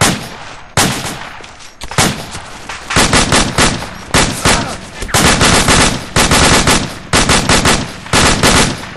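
Heavy gunfire in the video game ARMA 2, with loud, close volleys of automatic fire in repeated bursts and near-continuous rattling throughout.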